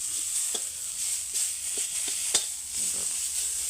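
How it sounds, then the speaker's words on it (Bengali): Cauliflower and potatoes fry with spices in a pan, giving a steady bright sizzle broken by occasional scrapes and taps of the stirring spoon, close and clear. "রান্নাটা করতেছি এখন আমরা কপি আলু ভাজা"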